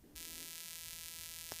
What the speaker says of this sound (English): So it's like a high sizzling kind of sound.